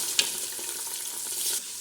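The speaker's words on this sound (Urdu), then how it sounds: "گوشت کو اچھی طرح ہم اس میں بھون لیں گے" Meat sizzles and fries in a pan with lightly browned onions, a steady crackle with a sharp stirring clack near the start. No one speaks.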